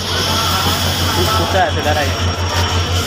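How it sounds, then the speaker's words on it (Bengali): The Nilsagar Express, Dhaka to Chilahati, pulls in with its engine giving a loud, steady low hum and rumble close by, with voices and background noise mixed in. "তো গাইস ট্রেন ঢুকে গেল নীলসাগর। সামনে চলেন, দেখেন ট্রেন ইঞ্জিনটা"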